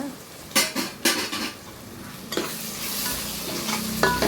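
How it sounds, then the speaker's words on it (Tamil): Stirring turmeric into brinjal curry in a pan, a spoon scraping and knocking against the metal in several sharp strokes over a steady sizzle. "கொஞ்சோண்டு மஞ்சள் தூள் போட்டுக்கலாம் போட்டு நல்லா கிண்டி விடுங்க"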